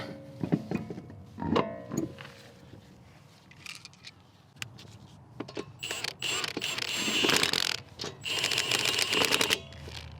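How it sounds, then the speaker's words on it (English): Lug nuts tightened while reinstalling the front wheel on a Subaru Crosstrek, heard as bursts of close mechanical ratcheting clicks between a few knocks and handling noises, with no talk. "And now we can go ahead and reinstall the front wheel."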